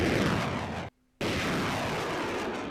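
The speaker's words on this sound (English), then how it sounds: "This is America's M270 rocket launcher." An M270 MLRS rocket launcher firing, a loud, sustained roaring rush of rocket exhaust that cuts out abruptly for a moment before the blast-like roar resumes at full strength, dense and close.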